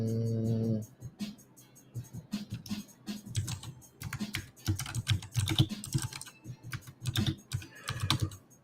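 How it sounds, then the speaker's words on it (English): Rapid, uneven clatter of keys on a computer keyboard, typed in irregular bursts close to the microphone after a short low tone at the start, with no talking. "I'll just put this in the chat. If I learn how to type."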